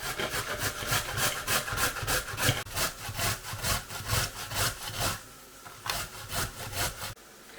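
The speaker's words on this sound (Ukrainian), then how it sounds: "Цибуля смажиться, а ми натираємо моркву." Rapid, rhythmic rasping strokes of carrots being grated on a metal grater, steady back-and-forth scraping close up that pauses briefly near the end.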